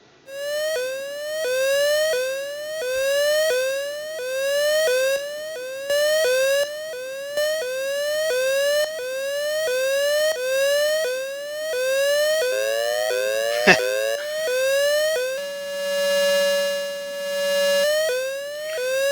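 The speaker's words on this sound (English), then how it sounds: "Modulating the frequency even though this is a square wave." A square-wave synth tone with frequency modulation warbling up and down in repeated rising sweeps, bright and buzzy like an old video game, with a brief sharp zap partway through.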